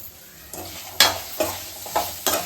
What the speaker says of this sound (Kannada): ಈಗ ಬೀನ್ಸು ಮತ್ತೆ ಕ್ಯಾರೆಟ್ ಎರಡು ಸೇರಿಸ್ಕೊಳ್ಳೋಣ.